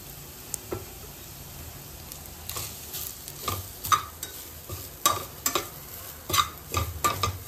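Grated coconut fried in ghee sizzles softly while a spoon stirs it, scraping and knocking the pan in repeated close strokes that grow more frequent toward the end.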